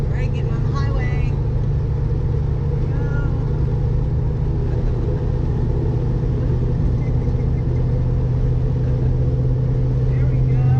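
A Foxbody Ford Mustang with an SSP build pulls onto the highway, its engine a loud, steady low rumble heard from inside the car, while a person talks and laughs over it.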